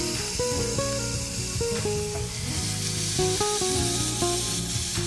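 Ground beef frying in a pan with minced garlic and onion for a broccoli stir fry, a steady loud sizzle running throughout with stirring, alongside a bed of background music.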